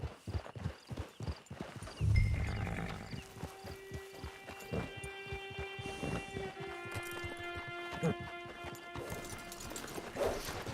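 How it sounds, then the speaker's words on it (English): Steady clip-clop of horse hooves trotting in the video game Red Dead Redemption 2, rhythmic and close, with a brief whinny and a sustained musical tone underneath. "Get your horse."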